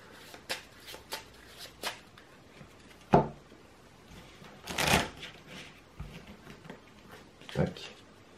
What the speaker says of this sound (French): mélanger la pile de défauts de rencontre dans le deck de rencontre